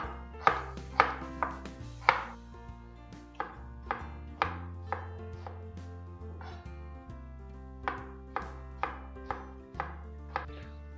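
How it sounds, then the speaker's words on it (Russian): A knife chops garlic into rings on a cutting board, with about a dozen crisp, evenly spaced taps close by and nothing else heard. "Нам нужно нарезать чеснок просто вот такими вот кольцами."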